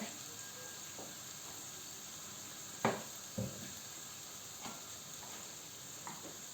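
Oil frying in a pan while preparing olive-oil borlotti beans. A faint, steady hiss runs throughout, with a few soft pops and clicks scattered through it.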